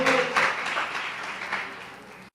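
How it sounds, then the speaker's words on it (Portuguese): A church congregation applauds during a service, a broad, sustained wash of clapping from many hands that slowly eases off before cutting out abruptly. "Aplauda o Senhor com o seu melhor."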